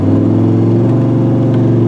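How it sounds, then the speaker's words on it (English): A truck engine fitted with Flowmaster exhaust pipes, heard up close as a loud, steady, deep rumble with a slightly rising rev and no pause. "Hear them pipes on this truck? Can you hear that? Can you hear them Flowmasters?"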